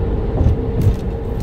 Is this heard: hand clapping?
no